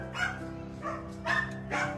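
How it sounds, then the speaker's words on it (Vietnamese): Litter of five plump newborn puppies, still nursing, yipping and barking in several short bursts, close by and fairly loud with no talk over them. "năm con chó rất là bụ bẫm luôn đó nó còn đang trong thời kỳ uống sữa"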